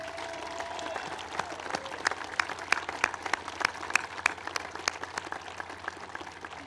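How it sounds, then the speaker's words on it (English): Applause from an audience at Nellis Air Force Base honoring military families, dense steady clapping with sharper individual claps throughout, moderately distant in a large hall. "Let's give our families a round of applause."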